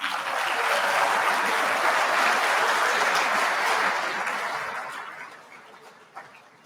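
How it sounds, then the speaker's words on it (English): An audience at a high school Common Good Day assembly applauds keynote speaker Professor Michael Ham, a full, even wash of clapping that swells, holds, then fades away over the last couple of seconds. "you can clap for him"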